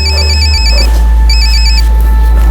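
A loud electronic phone ringtone repeats in bursts of trilling tones with a short gap between, over a steady low hum.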